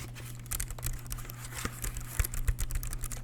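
Fingers tap quickly on a small computer keyboard, giving soft, close, irregular clicks in a quiet room.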